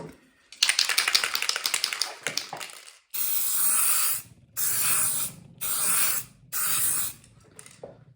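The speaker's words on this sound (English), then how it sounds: "I'll spray it now with graphite spray." Graphite spray hisses from an aerosol can onto Rock-Ola 1455 jukebox pin bank parts, first in a rattly stretch and then in four strong, even bursts with short pauses between, close and loud.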